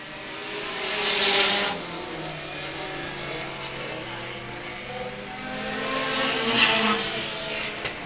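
Pure stock race cars roar around an oval speedway in a heat race, engines droning steadily with louder swells as the pack passes close by, no talk heard.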